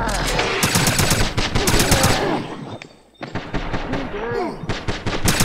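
Machine gun fire in the video game Wolfenstein (2009), loud rapid bursts of automatic shots that pause briefly and then resume, with game voices and a player talking over them.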